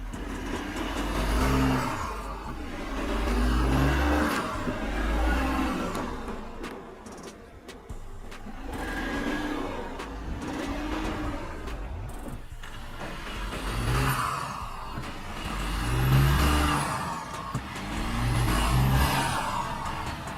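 An Audi Q8 SUV crawls over an off-road diagonal suspension trail, its engine rising and falling in slow surges of revving with low rumbling and tire noise, moderately close and without talk.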